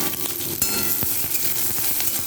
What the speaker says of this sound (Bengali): এরপর ওই তেলের মধ্যে কিন্তু আমি লঙ্কা আর ফোড়নগুলো দিয়ে দেবো